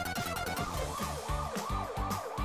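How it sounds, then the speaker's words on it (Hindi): A toy ambulance siren wails in a steady repeating up-and-down pattern, loud and close with an electronic tone, heard alone with no talking. "एम्बुलेंस प्रिंसेस को हॉस्पिटल ले गई।"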